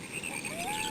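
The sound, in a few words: frog croaking in Berenstain Bears video game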